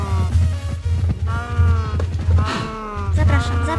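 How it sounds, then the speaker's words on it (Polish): Farm animals bleat and low repeatedly in a life simulation farming game, loud, close and overlapping in quick succession. "Moje drogie krowy."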